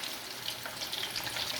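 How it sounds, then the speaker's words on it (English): Chicken kebabs made with spinach sizzle steadily as they fry in a pan, a dense, crackling hiss that stays close and even throughout, with no talking. "And the sizzling away."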